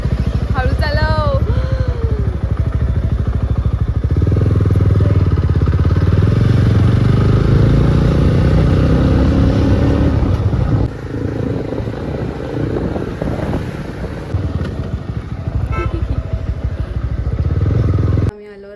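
A motorcycle engine drones and rumbles throughout a ride, with wind buffeting, rattles and changing throttle, while people talk over it now and then.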